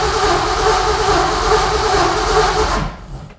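A junkyard LS truck engine fitted in a '64 Nova project is cranked continuously on the starter without catching, a loud steady mechanical churn that cuts off near the end.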